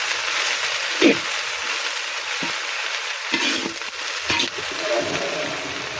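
Red amaranth greens are stirred in a clay pot over heat: a soft, steady sizzle broken by a few scraping, rustling strokes of the spoon close by, with no talking.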